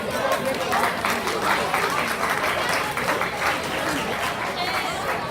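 Applause fills a room at an athletics banquet, a dense, steady round of clapping from the crowd with voices and chatter mixed underneath.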